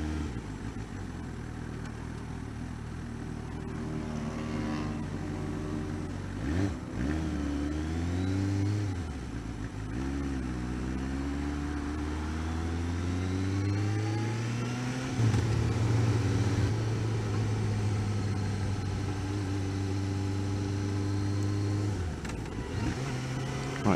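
A Suzuki GSX-S750 motorcycle engine revs up and down repeatedly, its harmonics rising and falling in several throttle blips over a steady idle, loud and close with no talking.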